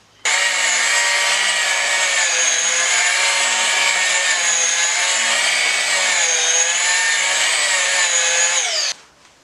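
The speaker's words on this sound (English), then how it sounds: "I went and bought a real polisher so we can get it actually shiny" An electric polisher buffs freshly painted motorcycle bodywork on a Kawasaki Ninja 400, a loud, steady high-pitched motor whine running unbroken for about eight and a half seconds before cutting off.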